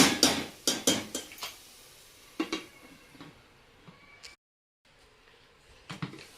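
Masala being sautéed and stirred in a pan with a lid on, for a Raksha Bandhan meal: a few clattering scrapes of a spoon against metal, close and fairly quiet, with a brief silence before the stirring resumes.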